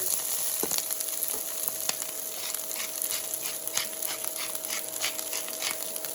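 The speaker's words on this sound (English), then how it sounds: "I want to really fry that up" Cauliflower steak frying in olive oil in a pan gives a steady, close sizzle with dense crackling pops throughout, no voices.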